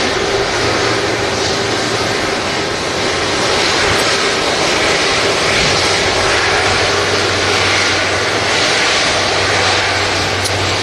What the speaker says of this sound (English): just taxiing past the beautiful A330